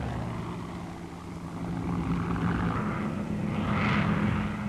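A Focke-Wulf Fw 190 fighter with a radial engine drones past at a distance, its steady propeller hum swelling gradually and peaking near the end, with no talk over it.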